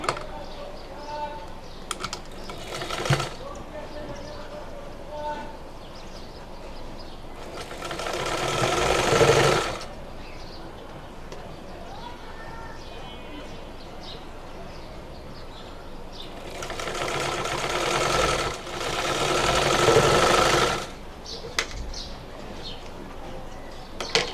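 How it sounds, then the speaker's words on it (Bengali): A sewing machine stitches a fabric sleeve in two separate bursts of steady rapid clatter, with quieter handling noise and someone talking between the runs. "তো এখন আমি সেলাইটা করে নিচ্ছি"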